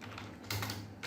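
Code typed on a computer keyboard, a short run of quiet, close keystrokes with a firmer cluster of clicks partway through.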